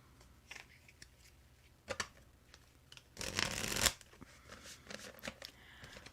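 A deck of tarot cards is handled and shuffled, with soft scattered rubs and taps and one louder riffling burst near the middle, all close and quiet with no voices.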